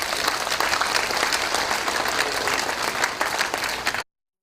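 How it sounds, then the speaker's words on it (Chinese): A church audience at a Taiwanese Presbyterian hymn gathering claps in dense, steady applause for about four seconds to welcome a speaker, then stops abruptly. "我们用拍掌欢迎他"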